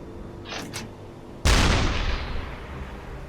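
A U-boat deck gun in the Uboat game fires an armour-piercing shell at an oil tanker. Faint clatter comes first, then one loud, close blast whose rumbling tail decays over two seconds.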